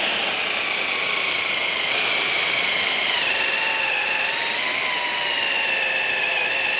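A machine polisher pad compounds a foggy car headlight with a loud, continuous high-pitched motor whine whose pitch drifts slightly under changing pressure, close by and without speech.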